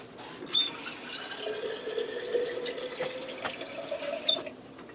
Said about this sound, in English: I'm going to fill this jar up about halfway with water.